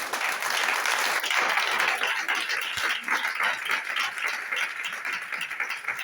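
A church congregation applauds and cheers their praise of the Lord during a French-language sermon, a dense, steady wash of many hands clapping throughout, loud and close with no speech over it.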